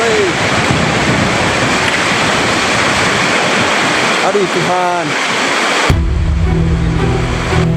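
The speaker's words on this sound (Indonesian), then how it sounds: "Arus deras banjir bandang akibat hujan yang mengguyur hampir seluruh wilayah Bali" A raging flash flood current in Bali after heavy rain, a loud, continuous close roar of rushing water with wind buffeting the microphone; a person briefly exclaims, and the sound changes abruptly near the end.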